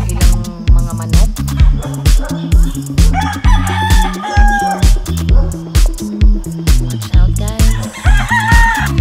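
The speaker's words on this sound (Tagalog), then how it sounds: "Nadiripod ang ilang mga manok." Chickens at a rural hillside spot, with a rooster crowing and hens clucking over a steady, rhythmic pulsing background; loud and close throughout.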